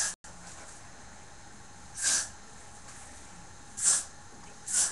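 Hairspray from an aerosol can misted onto hair in three short, hissing bursts, close and fairly loud, evenly spaced with quiet gaps between.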